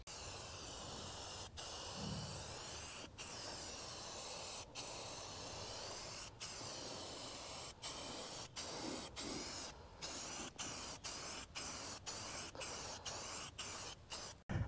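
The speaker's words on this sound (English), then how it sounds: "I'm going to spray paint her all up black." A can of black spray paint hisses steadily for about fifteen seconds while it coats a pond overflow pipe outdoors. The spray breaks off briefly at intervals and comes close and clear with no talk.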